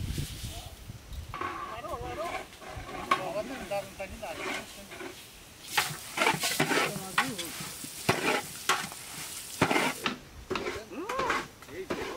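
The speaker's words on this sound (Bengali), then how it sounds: "পোলার চালটা ভাজা হয়ে গেছে" Rice for chicken pulao, with cardamom, cinnamon and bay leaf, is stirred and fried in a pot, a close sizzle with repeated scraping of the spoon, while a voice talks throughout.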